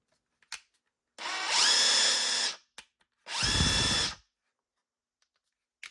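An 18V brushless cordless impact wrench runs in two loud bursts of about a second each, with a whining motor and rattling hammer, separated by short clicks and silence.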